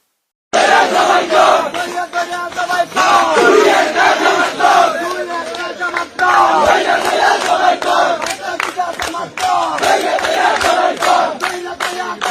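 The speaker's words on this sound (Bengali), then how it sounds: "ইলেকশনে জিতে আওয়ামী লীগের স্লোগান দিতেছে বিএনপি" A large crowd chants slogans in loud rhythmic unison, with shouted lead calls and massed responses continuing throughout.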